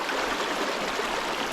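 A New Hampshire backcountry river rushes and burbles steadily close by, a constant broadband wash of flowing water with no voices over it.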